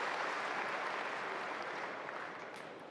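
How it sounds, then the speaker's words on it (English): A table tennis crowd at the women's singles final of the 2017 German Open breaks into steady, fairly distant applause after a long rally, the clapping holding and then slowly fading. "Oohing and awing in the crowd after that shot recovered, slapped back from the forehand"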